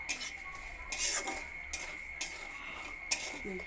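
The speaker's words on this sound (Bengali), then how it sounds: "গ্যাসটাকে কম করে লটু মিডিয়ামে রেখে সুজিটাকে আমি ভেজে নিচ্ছি" Semolina (suji) dry-fried in a pan over low-medium gas: a steady faint hiss under repeated scraping and clinks of a utensil against the metal pan, with bursts of stirring at irregular intervals, close by and with no talk.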